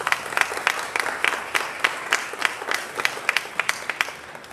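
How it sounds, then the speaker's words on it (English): An audience at a trade roadshow event in New York applauds, a moderate crowd of scattered, uneven claps with a few sharper individual claps standing out, faint background voices beneath. "I think everybody should really applaud right now for Dubai"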